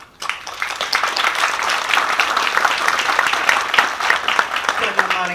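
A crowd at a ribbon cutting for the Bienville Basin development applauds its funders, sustained, even clapping from many hands lasting the whole stretch, fairly loud and close.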